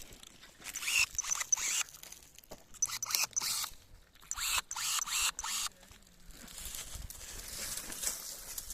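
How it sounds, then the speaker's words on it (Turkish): Pruning shears snip grapevine branches during pruning in a village vineyard in Göynük, Avanos, Nevşehir, making repeated close crisp cuts and rustling bursts in an irregular rhythm. "bu uzunları yine kesiyorum"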